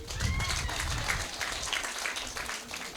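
A church congregation at a prayer-centre inauguration Mass gives steady applause for a newly joined member, a dense wash of clapping that holds evenly throughout at moderate distance.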